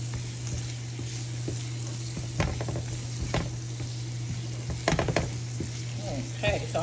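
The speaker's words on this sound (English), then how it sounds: "I'm gonna let this cook a little more because these are large shrimp." Large shrimp sizzle steadily in a hot pan, a close, even crackle with a few sharp clicks and scrapes of stirring scattered throughout and a low steady hum beneath.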